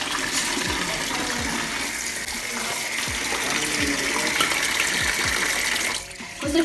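Water is poured out to wash friselle at an outdoor camp with no tap or sink, a continuous splashing gush that runs steadily and then briefly drops off near the end.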